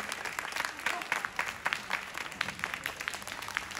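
Audience applause at a student saxophone cover performance, steady dense clapping from a crowd with no break, moderately loud and fairly close.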